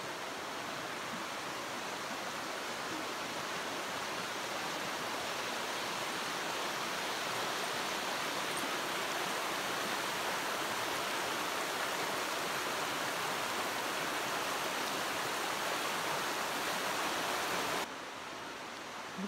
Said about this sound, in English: Water boiling out of the ground.